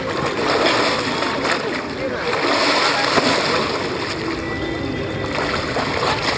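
At an outdoor bathing spot in Armavir, people plunge into cold consecrated water, sending up continuous splashing and sloshing up close, with voices mixed in.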